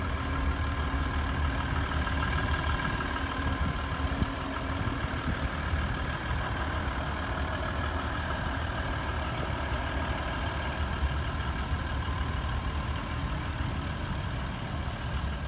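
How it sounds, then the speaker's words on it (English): 2018 Ford F-150 King Ranch pickup with a 3.0L Power Stroke V6 diesel idling steadily, a continuous low rumble with subdued diesel chatter and rain noise in the background, no talking. "the one thing you'll notice is that the diesel chatter on here really isn't that loud."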